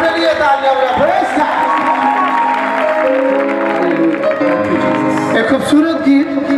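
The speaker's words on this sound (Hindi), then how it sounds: "अपने लिए तालियां बजाएं।" A church congregation claps and cheers during worship, a broad roar of applause mixed with voices and a sustained musical tone, loud and continuous throughout.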